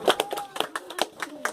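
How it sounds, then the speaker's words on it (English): Scattered applause from a small group at a team outing, a few uneven hand claps, close and loose in rhythm, with some voices mixed in. "So big round of applause for Darshan as well."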